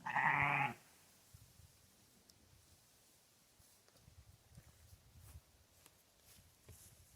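Sheep rams on a farm give one loud, close bleat at the start, then quiet rustling and faint footsteps follow.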